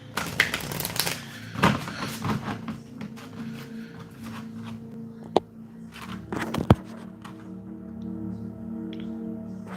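Tarot cards shuffled by hand: a long run of crisp riffling and shuffling close by, with a couple of sharp taps, then a soft steady rustle, and no talking.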